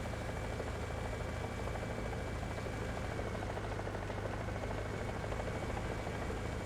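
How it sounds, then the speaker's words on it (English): A helicopter in the War Thunder video game, heard as a loud, constant rotor drone with a steady buzzing hum that holds evenly throughout. "I hear you, helicopter."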